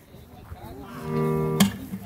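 A cow on a small family farm gives one drawn-out moo lasting about a second, fairly close and clear, ending with a brief sharper sound.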